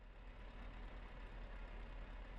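Truck engine idling in Euro Truck Simulator 2, a steady low rumble that holds evenly and faintly throughout, with no talking.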